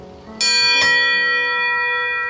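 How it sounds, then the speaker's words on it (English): A doorbell bought in Eastport, Maine rings out loudly indoors, two bright chiming strikes in quick succession followed by a long sustained metallic ring that slowly decays. "just await the sound of the doorbell"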